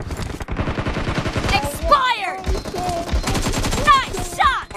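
Rapid bursts of AKM rifle fire in a BGMI team deathmatch rattle close and loud in quick repeated volleys, with a voice talking in between.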